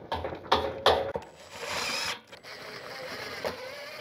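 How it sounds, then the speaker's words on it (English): An impact driver driving screws into plastic studs of insulated concrete form walls, with several sharp rattling hammer bursts close by followed by a steadier whirring spin that trails off, with no speech. "I'm using a fairly powerful impact driver, too powerful for these plastic studs. So you'll notice when I screw these in, I'm only letting it impact like once."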